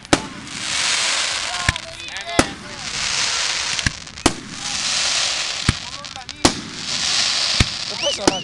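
A Ferragosto 2017 fireworks display at Lido degli Estensi: rolling whooshes and crackling shells build and fade, punctuated by about eight sharp booms at intervals, with people chatting nearby.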